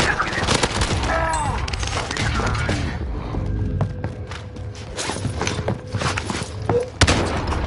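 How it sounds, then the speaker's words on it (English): Gunfire in the Warzone video game, with bursts of rapid automatic fire and scattered shots, some near and some farther off, alongside footsteps and game sounds, with a voice speaking briefly over it. "I am under fire."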